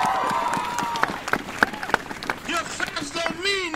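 Crowd clapping at an anti-racism rally, scattered uneven claps rising and trailing off outdoors, with a voice talking over them.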